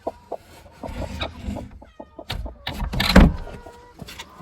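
Chickens with bare, featherless patches clucking close by in scattered short calls, with a few squawks and some rustling and knocking, growing louder toward the end.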